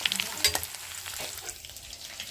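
Food fries in a pan until brown, giving a close, steady sizzle with a few brief stirring clicks near the start.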